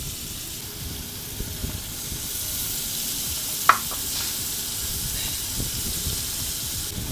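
Chopped onion and ground onion paste frying in a pan, a steady close hiss of sizzling oil with occasional scrapes and one sharp clink as it is stirred, and no voices.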